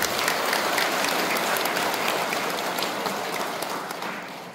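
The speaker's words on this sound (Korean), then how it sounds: "뜨거운 찬탄의 박수" Sustained, dense applause from a Buddhist temple congregation during a regular dharma service, steady and fairly loud throughout, thinning slightly toward the end, with no talking.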